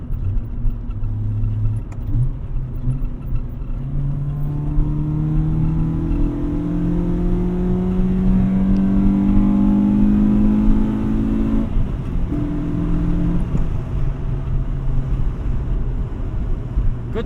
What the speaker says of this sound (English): a Honda exhaust done well.